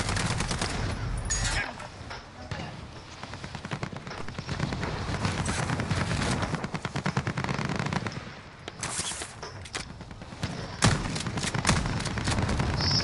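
Gunfire in a first-person shooter video game, continuous rapid automatic fire and scattered shots with occasional louder blasts, loud and dense over the whole stretch with no talking.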